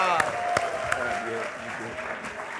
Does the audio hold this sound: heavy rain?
no